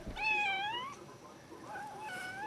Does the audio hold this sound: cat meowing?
yes